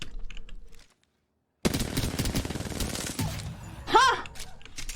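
Video game gunfire from a horror-style shooter with a shotgun, rapid loud bursts of shots broken by a brief silence, then more firing with a rising tone near the end.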